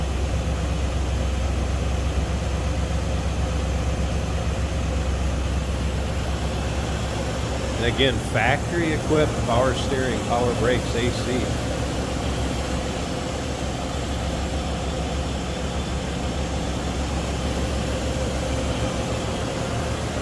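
A 1954 Cadillac Fleetwood sedan's V8 idles smoothly throughout as a steady low rumble and hum, with someone talking over it midway.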